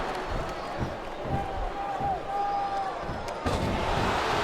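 Wrestling arena crowd noise in the SmackDown vs Raw 2007 video game, a steady, dense roar of voices with a couple of sharp slams, running continuously under no talk.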